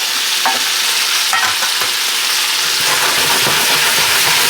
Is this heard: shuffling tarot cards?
no